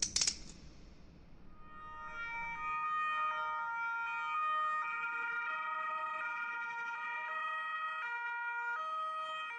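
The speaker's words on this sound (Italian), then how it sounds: "il circo massimo si riempie di sirene" A wailing police siren with steady overlapping tones sounds loudly and continuously after a brief sharp noise at the start.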